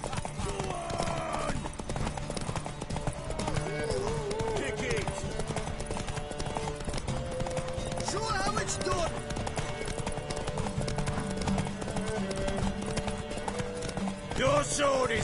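Hoofbeats of a horse galloping in The Witcher 3: Wild Hunt, a steady clip-clop rhythm running through the whole stretch under game music, with voices talking over it.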